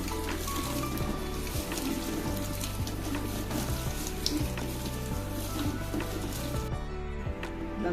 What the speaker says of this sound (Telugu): పాలు వేడైనాయి, పోసేసి కలిపేసేయాలి.